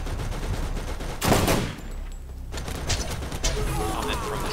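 Turret gunfire in the Borderlands video game: a loud burst of rapid shots around the middle, then scattered lighter shots and game noise, with a voice briefly present.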